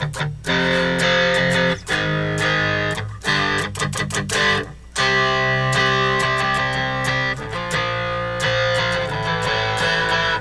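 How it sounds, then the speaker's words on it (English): A harsh, heavily distorted electric guitar from a distortion plugin preset plays chopped chords and riffs with abrupt stops, loud and fizzy, with no voices. "That's just terrible distortion. It sounds awful."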